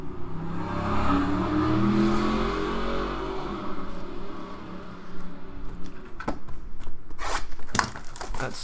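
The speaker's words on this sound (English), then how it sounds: "That stupid ass car." A car driving up and down a residential street: its engine swells and revs through a rising pass, then recedes, with sharp nearby clicks and taps toward the end.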